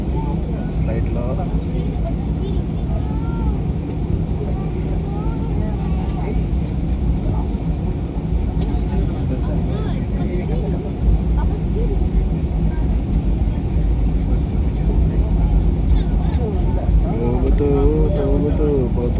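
Airplane cabin during a flight from Bangalore to Goa, a steady low engine and air rumble filling the cabin, with a person talking over it.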